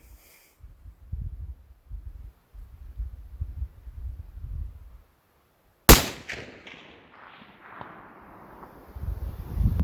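A bolt-action rifle in an MDT TAC21 Gen 2 chassis fires once at a steel plate target, a single sharp loud crack after quiet low rumbling, followed by a fading ring and echo.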